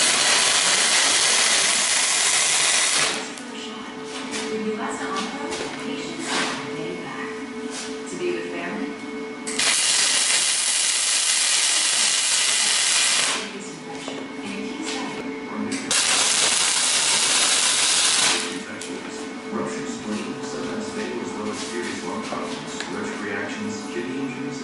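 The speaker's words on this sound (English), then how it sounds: "we're going to go ahead and tack these caster plates onto the extension legs" Welding tacks joining steel caster plates onto the extension legs of a shop table, with bursts of harsh loud crackling hiss lasting several seconds each, separated by quieter stretches of shop noise and a voice talking.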